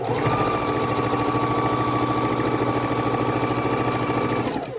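Electric sewing machine stitching pieced quilt star blocks together, a steady fast mechanical whirr with a rapid needle rhythm running continuously and close, then winding down at the end.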